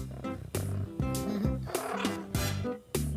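Kitten meowing repeatedly, a run of short, closely spaced high cries in quick rhythm, near and fairly loud.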